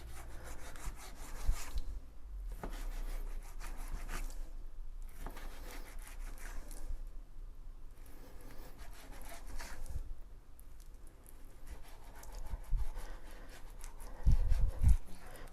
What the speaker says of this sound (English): now we've got the salmon and we're going to cut it up into little bits